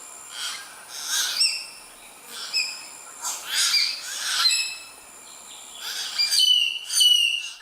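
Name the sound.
common hill myna bird song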